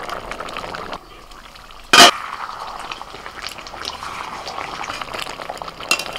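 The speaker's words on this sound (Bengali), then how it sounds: "ও, এইভাবেই নাড়াচাড়া করতে করতে চিকেনটাকে আমি রান্না করে নেব।" Chicken simmering and sizzling in a pan with no added water, a steady bubbling hiss under the stirring and one sharp clatter of a utensil against the pan midway.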